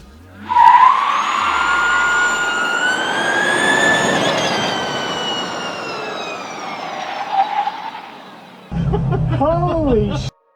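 A 1,400-horsepower electric hypercar with seven motors accelerates hard, giving a loud, rising whine that climbs steadily in pitch before easing off. A voice shouts briefly at the end.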